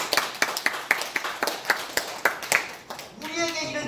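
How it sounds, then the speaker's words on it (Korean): An audience claps at a religious gathering: a run of quick, loud claps with a steady beat for about three seconds, then fading into a voice. "박수 한번 더요"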